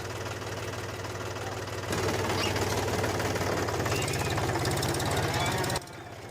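A homemade mini tractor engine runs with a steady rattling, knocking idle beside a JCB at a small concrete bridge build, growing louder and rougher from about two seconds in before dropping back near the end.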